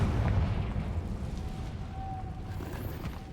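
A Confringo fire spell blasts in Hogwarts Legacy, one heavy, booming explosion that opens loud and then fades into a long, low rumbling tail.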